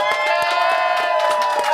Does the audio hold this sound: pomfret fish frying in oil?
no